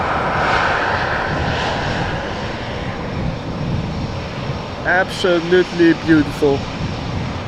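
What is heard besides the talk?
Cathay Pacific Airbus A350-1000 jet engines departing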